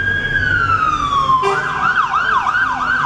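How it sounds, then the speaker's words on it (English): A fire engine siren passes close by on a street, first a long, steadily falling wail, then a rapid rising-and-falling yelp pattern, loud throughout over road traffic noise. "That's a fire engine,"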